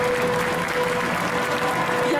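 A cosplay contest audience at an indoor festival claps for a contestant, a continuous, fairly loud burst of crowd applause with a faint voice underneath.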